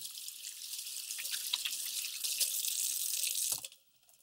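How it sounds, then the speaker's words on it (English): Tap water runs steadily into a sink as hands are washed beneath it, a continuous close hiss with small splashes, cutting off abruptly near the end. "be sure to wash your hands"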